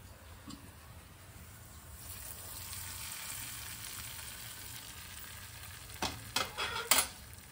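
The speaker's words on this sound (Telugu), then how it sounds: "ఇప్పుడు ఈ తాలింపుని రైస్లో వేసుకుందాం." Pongal tempering of curry leaves, cashews and pepper powder being stirred into rice: soft steady scraping and sizzling at low level, ending in a few sharper clinks and scrapes of a spoon against the pot.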